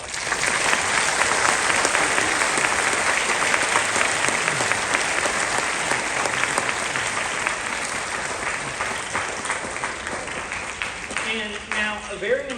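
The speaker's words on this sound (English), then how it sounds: "can you please give all of those people a round of applause?" Sustained applause from a large crowd at a junior high school band concert, steady and loud for several seconds, tapering slightly near the end as some cheering voices come through.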